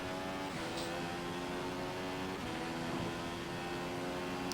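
An F1 car in a racing video game, on the Canada circuit, accelerates out of a hairpin with a continuous high, buzzy engine whine held at a steady, loud level.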